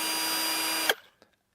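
A cheap cordless drill from Amazon whirs at a steady high pitch with gear whine, then stops abruptly and spins down, followed by a couple of faint clicks.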